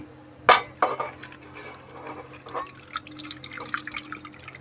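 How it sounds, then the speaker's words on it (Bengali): Cold water is poured into a pot of boiled masoor dal in a home kitchen, opening with a sharp splash followed by a run of small drips and trickles, close and moderately loud, with no voices. "ওর মধ্যে দিয়ে দেব ঠান্ডা জল"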